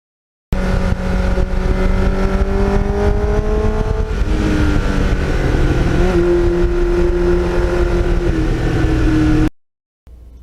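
Kawasaki Ninja with a Muzzy exhaust, loud and close, revving up and shifting through several gears in quick succession, the pitch climbing and dropping with each change before the sound cuts off near the end; no one talks.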